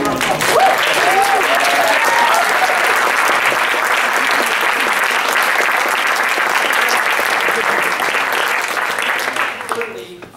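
Enthusiastic applause from a recital audience after a lecture recital combining music and lighting, loud and sustained for ten seconds, with a voice briefly audible early on beneath the clapping.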